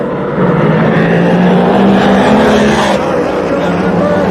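Nitro drag racing cars launching down the drag strip side by side, a loud, dense, continuous engine roar that fills the whole stretch and holds steady from start to finish.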